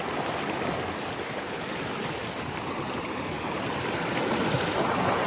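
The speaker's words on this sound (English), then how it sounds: "Okay, the water is very strong and pretty cold." Strong, cold mountain stream in a rainforest after a thunderstorm, a loud steady rushing roar of water close by, continuous without breaks.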